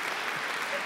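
Audience applause at a live talk event about regional choirs in Tübingen, a short steady wash of clapping from a seated crowd, moderately loud with no pauses.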